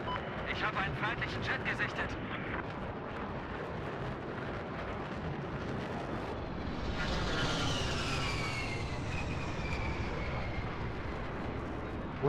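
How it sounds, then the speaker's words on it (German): Jet aircraft roaring overhead in Battlefield 4, a loud rising then sweeping engine rush over constant battle noise and distant explosions, with speech mixed in. "Jet, Mann."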